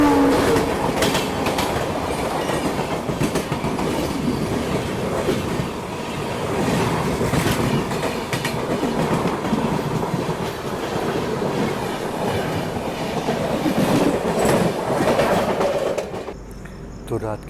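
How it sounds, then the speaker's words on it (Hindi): The Purushottam Express rushes past at night near Kanpur, heard from a stopped passenger train: a loud, close, continuous roar with steady clickety-clack wheel rhythm, faint speech underneath, easing off at the end. "सामने से मेरे ख्याल से पुरुषोत्तम एक्सप्रेस आ रही है"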